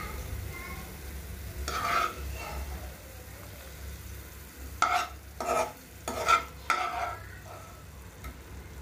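Carrot halwa stirred in a pan on the stove, with a brief scraping burst near the start and then a cluster of louder, quick stirring strokes against a faint frying hiss.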